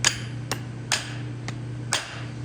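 A hammer taps a threaded stud insert into a hoof boot, four sharp close knocks roughly half a second apart over a steady low hum.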